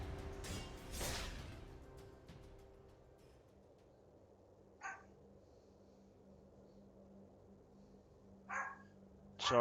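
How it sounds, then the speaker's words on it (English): A pet dog barks a few short, distinct times in a quiet room, the barks spaced several seconds apart toward the end, after a louder burst of noise at the start. "Sorry about that. That's just my dog."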